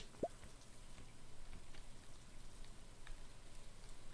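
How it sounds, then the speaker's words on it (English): Soft, steady rain patters in the Stardew Valley game world, a faint, even hiss of falling drops with occasional light taps and no talking. "rainy day, is it?"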